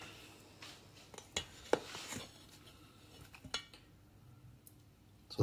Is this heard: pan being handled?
yes